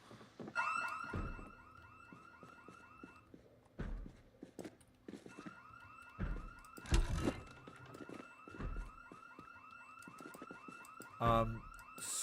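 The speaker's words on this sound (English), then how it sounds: "So confused why the alarm is going off." A car alarm blares in the zombie survival game Project Zomboid, a loud cycling electronic wail that repeats and pauses with in-game knocks and thumps between bursts, continuing throughout.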